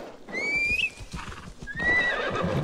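A horse in the video game Assassin's Creed Valhalla whinnies twice, with rapid hoof clip-clops thudding underneath. The sound is close and loud, with no talk over it.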